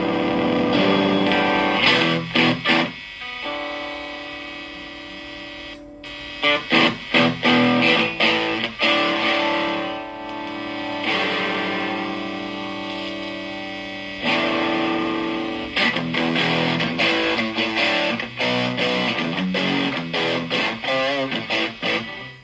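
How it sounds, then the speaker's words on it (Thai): A heavily distorted electric guitar plays gritty, buzzing chords and riffs through a small amp's built-in distortion, with brief pauses between loud, sustained passages. "เสียงแตกเพราะจะเปิดดีเลย์กับรีเวิร์บก่อนนะครับ ให้ฟังเสียงแตกชัดๆ"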